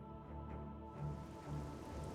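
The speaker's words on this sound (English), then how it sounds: "starting to rain." Rain beginning to fall during a storm, a soft, steady patter under a low droning background, faint and continuous with no voices.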